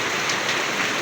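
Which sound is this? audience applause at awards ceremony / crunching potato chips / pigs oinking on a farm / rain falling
rain falling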